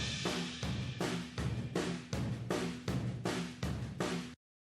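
A drum kit summed to mono after EQ cleanup, playing a steady groove of regular kick and snare hits with cymbal wash for a few seconds, then stopping abruptly.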